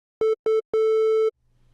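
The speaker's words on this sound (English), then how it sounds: "if you combine enough sine waves in each of those frequencies and at those differing volumes, then you would have a triangle wave" Three bursts of a synthesizer triangle wave tone sit on one steady pitch: two short blips, then one longer held note, clean and fairly loud, with a faint hum afterward.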